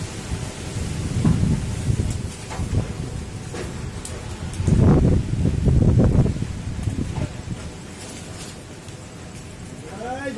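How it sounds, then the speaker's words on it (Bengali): Rain falls beneath dark storm clouds outdoors at a home with a courtyard, with bursts of rumbling thunder and gusts of wind; the steady wash rises and falls with several louder swells of noise. "বৃষ্টি পড়ছে।"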